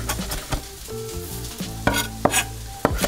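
Chopped leeks sizzle steadily in a hot pan after a pinch of salt goes in, a close, continuous frying hiss broken by a few sharp clinks and stirring knocks.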